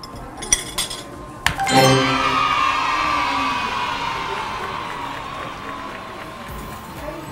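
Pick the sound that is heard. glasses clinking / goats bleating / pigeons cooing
glasses clinking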